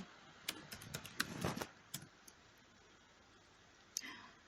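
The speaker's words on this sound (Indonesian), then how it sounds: "Karena saya ngetik" Typing on a computer keyboard while working in Google Classroom, a burst of quick clicking keystrokes in the first two seconds and one more click near the end, fairly faint and close.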